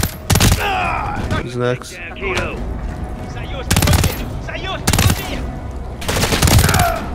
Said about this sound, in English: I swear I'm shooting him.